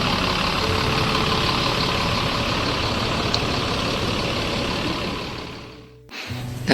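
A PO Gumarang Jaya bus with an Adi Putro Jetbus HD body idles in a bus terminal, a steady low engine rumble that holds close and loud before briefly dipping near the end.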